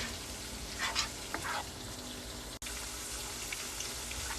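Masala spice paste frying in a pan, a quiet steady sizzle with a few brief stirring scrapes early on and a short dropout midway, with no speech.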